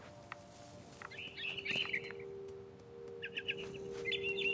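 A small bird chirps in short bursts of high tweets with quiet gaps, set against a steady low hum and faint background noise.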